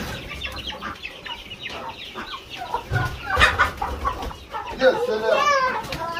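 Rooster clucking intermittently beside a voice, with scattered household noise, ahead of its slaughter for a Mawlid holiday meal; the bird's calls are fairly close and moderately loud, rising toward the end.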